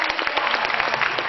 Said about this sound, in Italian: Facciamo un applauso a Cristiano.